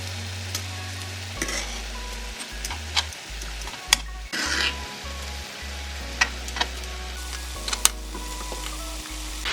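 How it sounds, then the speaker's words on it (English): Beef steak searing in oil in a pan for a Korean steak sandwich, a steady close sizzle and crackle with scattered sharp pops and occasional stirring clinks, no voices. "we are going to allow this to cook until it's no longer pink and have a nice searing"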